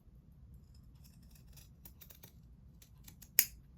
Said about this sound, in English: I'm going to cut a little bit of that off with my pinking shears.